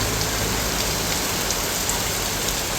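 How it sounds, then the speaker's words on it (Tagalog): Sudden heavy rain pours down in a dense, unbroken hiss, loud and close, with drops pattering on surfaces and no break in the downpour. "biglang buhos po ng malakas pong ulan"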